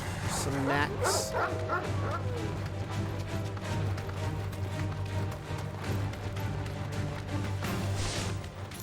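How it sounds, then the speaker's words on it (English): A German Shepherd-like dog in the Final Fantasy XVI video game barks and yips repeatedly over steady game music, with some whimpering mixed in. "That bark definitely sounds like a German Shepherd bark"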